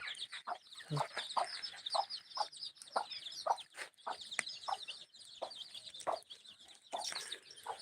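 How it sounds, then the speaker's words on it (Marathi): Several chickens cluck in quick, repeated bursts nearby, with occasional higher chirps mixed in, fairly soft overall. "सगळी कोंबड्या सोडल्या आता बाहेर"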